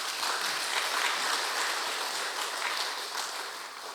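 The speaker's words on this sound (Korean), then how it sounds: "영광의 박수." A church congregation applauding during a Sunday sermon service, a steady, dense wash of clapping from many hands that holds for several seconds without a break.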